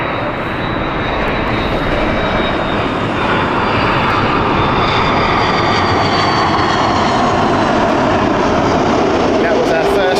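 An airliner arrives at Heathrow Airport as the first flight of the day, a loud, close jet roar with a thin high engine whine, sustained and building slightly toward the end.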